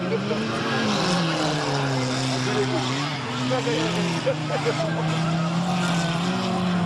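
Stock cars race around a 1999 amateur track at Saâne-Saint-Just, a continuous drone of several engines rising and falling together at a distance, heard under a commentator's running talk.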